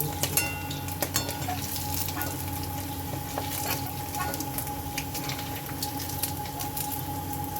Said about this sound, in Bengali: এরকমভাবে আমি সবগুলো ভেজে নেবো বন্ধুরা